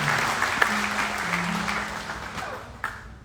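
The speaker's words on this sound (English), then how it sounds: "everybody should give them a round of applause" Gala audience applause, a sustained wash of many hands clapping with a faint tone and brief voices beneath, easing slightly toward the end.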